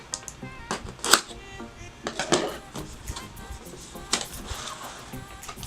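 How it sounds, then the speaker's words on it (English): Scissors cut open a sealed Boxycharm beauty subscription box, producing a series of sharp, close snips and crinkly cardboard and plastic rustles at irregular intervals, with no talking. "So I'm just gonna take my scissors to open it."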